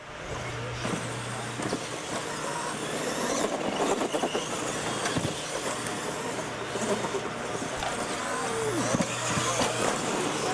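Figure 8 sport mod race cars roar around a track in a steady, loud engine drone with revving surges, mixed with crowd noise and an announcer's voice over the racing.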